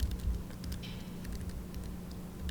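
Fast, light tapping of keys on a computer keyboard, a close, continuous patter of typing without speech.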